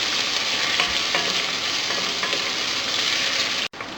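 Onions sizzling steadily in a hot pan for a hot pot pork soup, a dense continuous frying hiss with a few faint stirring clicks, no voices.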